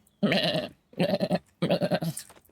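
A goat bleats three times in the video game FATHER, each call loud, close and wavering, separated by short gaps of silence.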